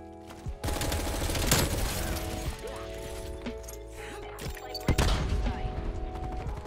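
Bursts of FARA 83 rifle fire from Black Ops Cold War, two or three loud volleys with sharp crashes over continuous game noise, a voice faintly present beneath.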